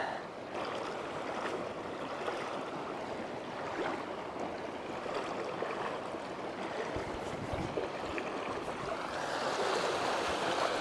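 Water rushes steadily through a cut in a beaver dam in the woods, a continuous faint gushing and splashing that swells slightly toward the end.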